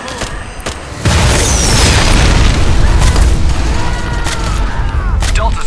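A battle explosion at Hoover Dam in the video game Fallout New Vegas: a sudden heavy boom that rolls into a long rumbling roar with scattered debris and gunfire crackle. A brief radio-style voice is heard before the blast.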